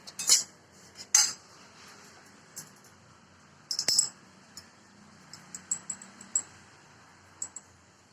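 A spoon scrapes and clinks against a bowl while sugar is mixed into cooled semolina for a karanji filling, with a few sharp clinks early on, then sparse light taps, fairly close and quiet, with no talking.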